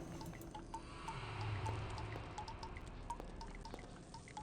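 Water drips steadily in a dungeon in Ultima IX: Ascension, with faint, sparse droplet plinks over a low trickling background and a quiet hum.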